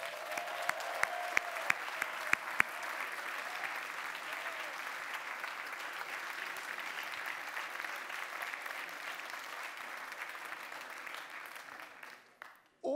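An audience at a science communication competition final bursts into steady, full applause that carries on for over ten seconds, starting with a few sharp individual claps and ending abruptly as a voice comes in.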